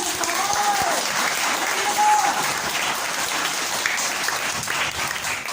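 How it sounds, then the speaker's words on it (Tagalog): A church congregation applauds during a preaching service, sustained dense clapping lasting several seconds, with a voice briefly audible over it. "Minsan pa nga palakpakan natin ang Diyos!"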